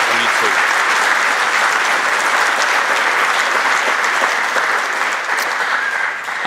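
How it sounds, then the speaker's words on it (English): Steady audience applause fills a celebration of life gathering, a sustained wash of many hands clapping at even loudness from start to finish, with voices faintly mixed in underneath. "One more round of applause for everyone who's helped get it organised on"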